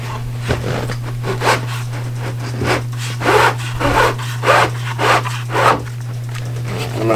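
A wooden piece is worked and slid out from under an RV slide-out, giving rhythmic scraping rubs that recur roughly every half second over a steady low hum.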